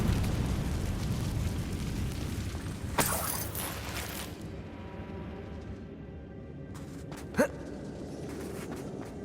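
A Confringo blasting spell goes off in a mine in Hogwarts Legacy, a sharp burst near three seconds followed by a rumbling decay, with a second smaller pop later over a steady game ambience.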